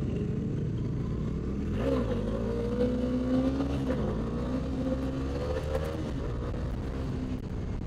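A motorbike engine, the R15 named in the title, revs up steadily as the rider holds a controlled wheelie, a continuous rising drone close by with a slight rattle and no talk.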